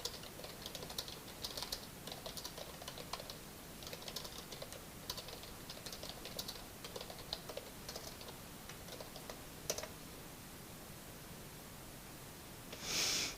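A computer keyboard clacks quietly as a quick reply is typed, with irregular soft keystrokes over a steady background hiss and no talking.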